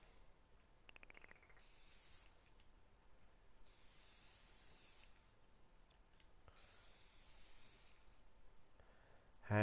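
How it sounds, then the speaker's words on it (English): Spray painting in the Dreams video game on PS4: several broad hissing bursts of a few seconds each, one after another at moderate level, with no talking. "let's do some more spray painting."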